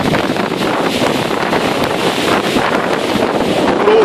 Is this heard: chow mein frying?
no